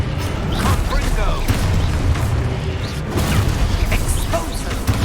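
A Confringo spell blast in Hogwarts Legacy lands among booming impacts and crashing debris, loud and dense, with a voice shouting a spell over the game sounds.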